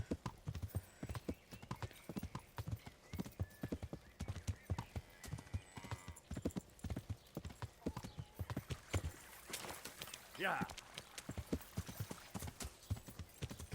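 Horse hooves galloping in the video game Kingdom Come Deliverance, a fast rhythmic clip-clop throughout with a brief whinny near the end and a short spoken word over it.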